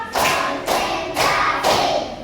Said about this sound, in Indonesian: tepuk keempat